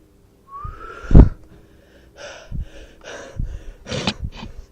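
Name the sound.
heavy breathing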